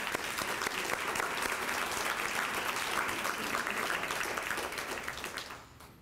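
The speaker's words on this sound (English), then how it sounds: "So let's give them a round of applause." Luncheon audience at an awards event giving a round of applause, full sustained clapping that stays even before fading out in the last second.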